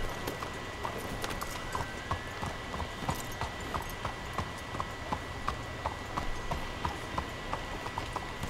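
Steady clip-clop of horse hooves at an even walking rhythm, continuous and moderately close, over a low background hum, in the video game Red Dead Redemption 2.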